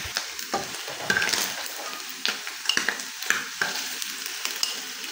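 Pork tocino frying and sizzling in a pan, steady crackling with scattered pops and occasional stirring scrapes, close and moderately loud with no talk.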